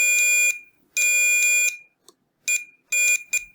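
A multimeter in continuity mode beeps while probing the damaged pins of a Game Boy Color cartridge, giving a piercing tone in uneven bursts: two long beeps, then shorter, choppy intermittent ones, each separated by silence.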